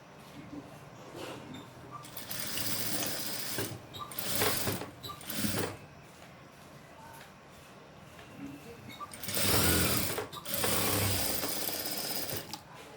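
A sewing machine stitching a frill during tailoring, running in short bursts of rapid mechanical whirring with quieter gaps between them; a longer burst comes near the end.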